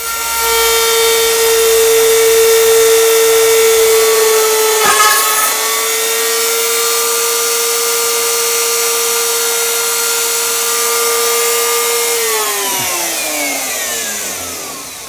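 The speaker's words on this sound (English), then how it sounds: "I suppose as a last resort I can try and drill that out." A small high-pitched rotary tool whines steadily drilling a small hole in a 1955 valve record player part, briefly bogging down midway, then spins down at the end. It is loud and close with no talking.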